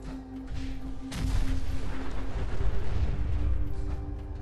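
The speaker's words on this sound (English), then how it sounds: "the car explosions are massive in this game" In the Fallout 4 video game, a car explodes in a single sudden blast about a second in, followed by a deep, rolling rumble that lingers for several seconds.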